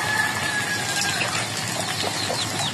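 Rainwater runs off a tin roof into a clay pitcher in a rural village, a continuous rushing, splashing pour with faint bird sounds in the background and no speech.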